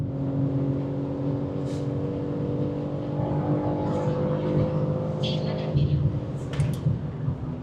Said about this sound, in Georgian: რა მაგარი მუღავი ამ მანქანის გაჩერებულიდან დაძრა